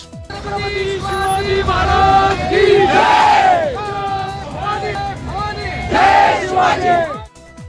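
A large crowd in Solapur city roars and chants in celebration of the Mahayuti alliance's election victory, loud and continuous with rising shouts and cheers throughout.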